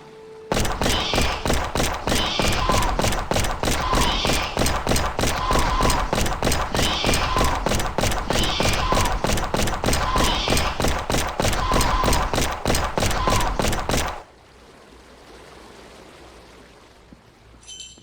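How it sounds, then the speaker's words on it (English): Rapid bursts of loud automatic gunfire from the video game Among Walls hammer in a steady rhythm for about fourteen seconds, then cut off abruptly, leaving a faint hiss. "the first thing that struck me was the abnormally loud gunshots"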